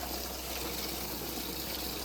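A thin stream of household supply water runs steadily, a soft, continuous hissing trickle close by, with no talk over it.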